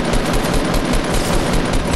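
A video game shootout fills with loud, continuous machine-gun fire, rapid shots rattling close and unbroken throughout with no voices over them.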